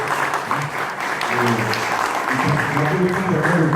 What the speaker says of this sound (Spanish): Un aplauso para el profesor también, para todos ustedes.